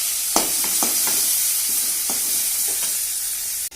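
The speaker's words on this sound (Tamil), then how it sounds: "வெங்காயம் எடுக்கிறேன். கருவேப்பிலையும் போட்டு நல்லா வதக்கிக்கணும்." Onions and curry leaves sizzling in a pan, a constant frying hiss punctuated by several scraping stirs of a utensil, close by.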